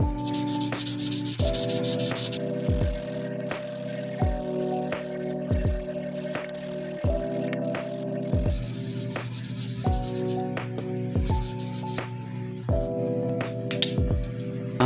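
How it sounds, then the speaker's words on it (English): Repeated rough rubbing strokes of 1000-grit sandpaper against oxidized copper clad board, coming in short regular bursts over steady background music. "clean the copper clad using 1000 grit sandpaper to remove the oxidized area."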